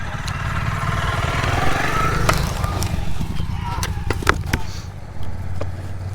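A motorcycle engine idles steadily after a crash on a gravel adventure ride, its low rumble continuous beneath nearby talking, with a few sharp knocks and clicks toward the end.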